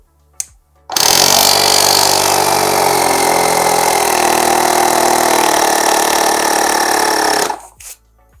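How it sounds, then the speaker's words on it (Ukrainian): A Parkcity C1399-1 car air compressor starts abruptly and runs loud and steady with a buzzing motor drone for about seven seconds, then cuts out sharply when its auto-stop kicks in, leaving near silence. "компресор досягає цього тиску і вимикається автоматично"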